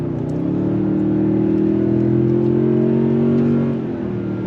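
A 2022 Toyota Tundra Capstone pickup's V6 engine, through a 10-speed transmission, revs up smoothly and climbs in pitch under steady acceleration, loud and close, then eases off near the end.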